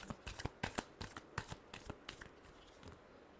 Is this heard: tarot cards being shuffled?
yes